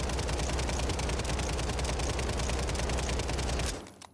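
WSP 9 submachine gun in a video game firing one long unbroken automatic burst, loud and close, with rapid evenly spaced shots that stop abruptly near the end, leaving a short fading tail.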